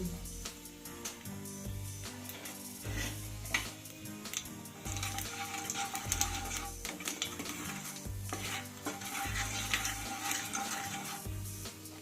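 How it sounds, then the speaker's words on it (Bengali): Nigella seeds tempering in hot mustard oil in a pan, a steady sizzle with repeated scraping stirs of a utensil against metal running throughout, no talking. "আর এবার দিয়ে দিচ্ছি কালো জিরে ফোড়ন"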